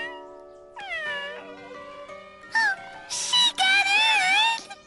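A cartoon cat from the animated series Kid vs Kat meows and wails in a series of rising, drawn-out cries, starting soft and growing louder and more strained, with no talk over them.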